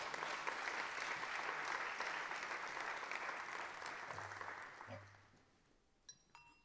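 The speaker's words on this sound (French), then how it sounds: "Mesdames, Messieurs, applaudissements" Audience applause greeting a guest at a keynote on the Climate Impulse adventure, a dense, steady crowd clapping that holds for several seconds, then fades out with a few last claps and clinks.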